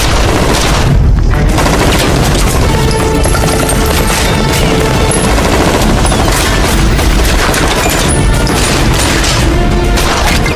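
A movie shootout between mafia gangs, 22 Bullets, with heavy bursts of gunfire and booming impacts layered over a loud, dense soundtrack that runs without a break.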